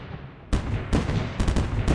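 Artillery cannons firing in the M.A.C.E. Tower Defense video game, heard as three or four loud, booming shots that come in close succession and fill the space with rumbling noise.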